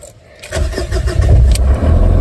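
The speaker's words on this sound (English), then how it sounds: "and start the vehicle" A 2006 Jeep Liberty started with the ignition key: a brief crank that catches almost at once into a steady, close engine idle.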